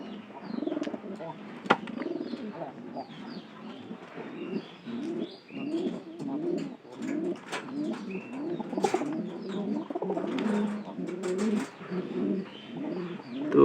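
Pigeons in a loft, one of them suffering from a cold, coo in a steady run of low, throaty pulses with scattered chirps and an occasional wing flap, close by, with a voice talking in the background.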